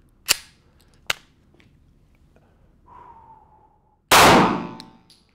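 A stock Glock pistol fitted with a Radian Ramjet micro compensator fires at steel targets: two sharp, loud shots about a second apart, a faint ringing ping, then a dense burst of blasts and clangs.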